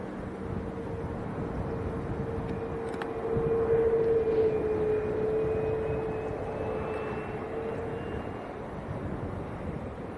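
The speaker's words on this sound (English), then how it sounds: "There comes a little PC-12 taxiing out." A Pilatus PC-12 turboprop taxiing at Leeds Bradford Airport gives a steady, moderately distant engine whine that swells slightly midway. Gusty wind rumbles against the microphone throughout.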